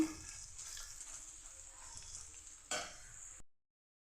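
A spoon stirs fried, crunchy ivy gourd with spice powder in a hot pan, a close scraping and sizzling that ends abruptly in silence.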